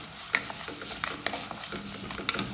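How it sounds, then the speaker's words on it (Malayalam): Ginger fries in a pan for fish curry, giving a quiet, steady sizzle broken by a few sharp stirring clicks and scrapes close by. "ഇത് നന്നായിട്ട് മൂക്കണം. നന്നായിട്ട് മൂത്ത് ഈ ഇഞ്ചിയൊക്കെ നന്നായിട്ട് മൂത്ത് കഴിയുമ്പോൾ നമുക്ക് പൊടി ചേർക്കാം"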